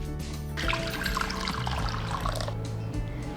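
Liquid pepper rasam sloshes and spills from a cooking pot as it is lifted off the stove, a short, steady splashing and trickling burst that starts abruptly and continues close by.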